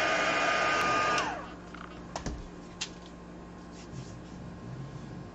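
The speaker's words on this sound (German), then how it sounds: "wie ihr bemerkt habt, habe ich ja jetzt doch den Föhn dann laufen lassen, weil das ging dann wirklich am besten" A hair dryer blows steadily for just over a second to heat Worbla thermoplastic for an arm ornament, then shuts off abruptly, leaving quiet room tone with a few light clicks and taps.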